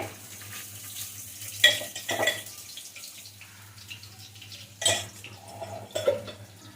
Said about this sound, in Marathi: छान आपण अशा गोल्डन होईपर्यंत परतून घेऊया याच्यामध्ये.